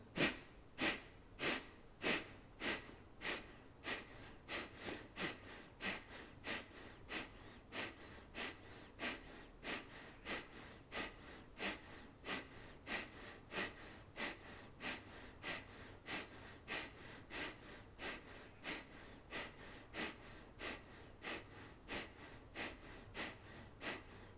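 During meditation, pranayama breathing comes as a steady run of quick, forceful exhalations at an even pace through the nose, about two per second, quiet and close with no talking.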